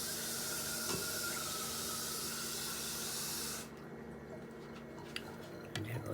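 Water pouring from a tap into a pot while cooking karhi, a steady hissing stream for several seconds that stops abruptly, followed by faint drips and small clinks in a quiet kitchen.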